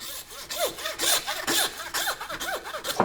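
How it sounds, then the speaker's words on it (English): A handsaw cuts through a deer femur in close, loud back-and-forth strokes, about a dozen rhythmic rasping passes with no talk. "take my handsaw and we're just gonna cut through that femur"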